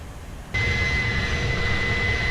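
Airbus A310 jet engines in a flight simulator cut in suddenly to a steady, loud roar with a sustained high whine, continuous and unchanging, no voices.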